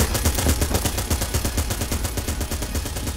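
Rapid gunfire from the video game Enter the Gungeon rattles in a steady, fast stream of loud, close shots with no pauses and no voices.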